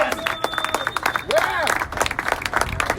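An outdoor crowd cheers and applauds a finishing rowing team at the Atlantic Dream Challenge, with steady clapping, whistles and shouting voices mixed close together throughout.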